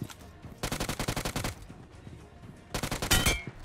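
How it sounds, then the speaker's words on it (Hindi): Automatic gunfire in a battle royale mobile game comes in two rapid bursts of closely spaced, punchy shots, each lasting roughly a second, with a short quiet gap between them. The shots are loud and close. "अब जैसे ही मैं इस बंदे पे गोलियां चलाता हूँ भाई"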